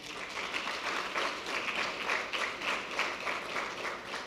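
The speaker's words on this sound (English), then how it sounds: "let's give a round of applause to MEC Lebohang Maile" Audience applause at the Gauteng Investment Conference launch at the JSE for MEC Lebohang Maile, a soft, steady patter of clapping heard from some distance, rising and falling slightly.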